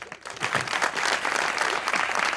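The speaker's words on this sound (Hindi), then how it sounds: "जैन भाई के लिए तालियां" Studio audience applause on a Pakistani TV talk show honoring actor Zain Afzal, a dense, steady wash of clapping throughout the short stretch with no talk.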